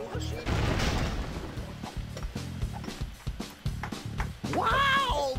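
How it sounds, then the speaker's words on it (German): An explosion in the Lego City Undercover video game, set in a mine, bursts out loud over a busy, rhythmic game soundtrack, followed moments later by a rising swooping effect. "Wow, was für eine Explosion."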